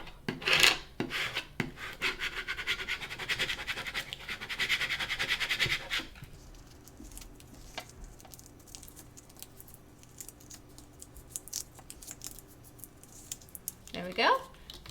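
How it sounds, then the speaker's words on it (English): A scraper tool rasps back and forth across reusable transfer tape for a ScanNCut project, a dry scratchy rubbing up close for several seconds, then it falls quieter, with scattered small scrapes and faint handling noises. "Use my scraper tool."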